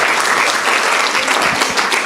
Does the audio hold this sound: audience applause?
yes